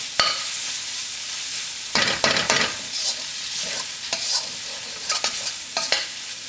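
Tomatoes frying in a pan over high heat for chicken kothu chapathi, a close steady sizzle broken by bursts of loud scraping and clattering as the mixture is stirred, with no voices.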